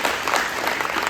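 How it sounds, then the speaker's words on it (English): Applause for a high school basketball team at a banquet, a dense burst of many hands clapping together from a room full of people, loud and continuous for about a second. "just a quick round of applause for everybody"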